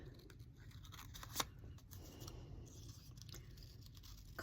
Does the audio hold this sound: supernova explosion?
no